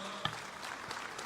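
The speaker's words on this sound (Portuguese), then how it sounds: "pedir aqui uma salva de palmas aos governadores que têm liderado essa política educacional" Faint, distant applause from an audience for state governors at an education policy event: a steady, soft patter of clapping with a few sharper claps and no voices.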